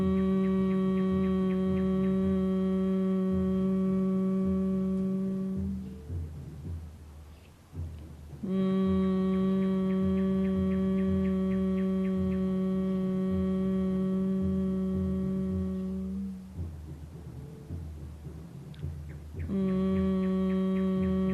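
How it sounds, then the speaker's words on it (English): Humming during a hatha yoga practice: three long, steady, resonant hums, each held for several seconds and separated by short breaks for inhaling. "We will vibrate a humming sound 3 times."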